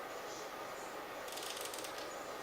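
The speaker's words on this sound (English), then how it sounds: "What if I change aperture?" The aperture is changed on a Fujifilm X100T camera, giving a quiet, quick run of small mechanical ratchet clicks midway through, over steady background hiss.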